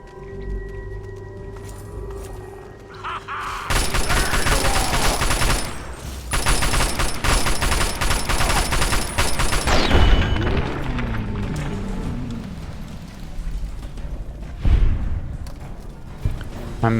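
Heavy gunfire erupts in a firefight in the video game Fallout 3, with loud sustained bursts and crashing booms. Quieter scattered shots and impacts follow.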